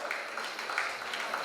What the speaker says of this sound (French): Il va être accompagné par celui qui termine deuxième de ce classement, le grimpeur de Briançon Escalade, Léo Chauvet, qu'on peut applaudir bien fort.